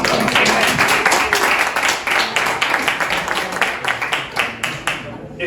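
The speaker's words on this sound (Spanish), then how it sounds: "Un aplauso, venga, un aplauso." Sustained applause from a live audience at a talk, dense clapping filling the whole stretch at steady loudness and thinning slightly toward the end, with no voices over it.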